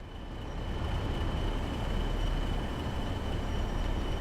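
A train in Train Sim World slowing toward a red signal, its steady rolling rumble and rail noise growing slightly and then holding even, with a faint high whine running above it and no speech.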